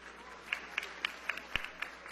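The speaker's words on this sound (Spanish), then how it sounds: "a los afrodescendientes los podemos aplaudir" Slow, rhythmic clapping in the National Assembly comes as evenly spaced claps, about one every quarter second, faint against a quiet room.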